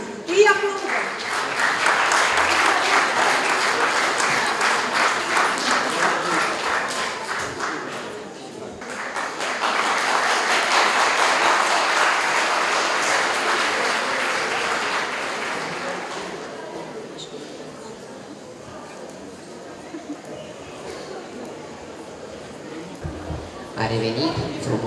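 Audience at a school awards gala applauding in two long sustained bursts, steady and fairly loud, with a lull between them and talk afterward.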